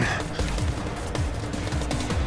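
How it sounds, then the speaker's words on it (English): Gunfire crackles in the Final Fantasy VII video game, a dense, loud burst of rapid shots and impacts filling the whole moment with no talking. "Now that was a gunshot."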